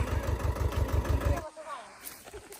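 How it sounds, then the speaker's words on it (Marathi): A tractor engine chugs with a steady low rhythmic thump, then cuts off abruptly, leaving quiet background with faint voices. "पप्पा आज पहिल्यांदा ट्रॅक्टर चालवले"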